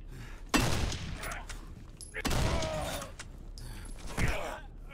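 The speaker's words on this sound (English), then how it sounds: "I shot that guy directly into the chest, and it didn't even hurt him" Game gunfire in Condemned: Criminal Origins hits an enemy with a few sharp, loud shots spaced over a few seconds, each with a crunchy impact, while a person talks around them.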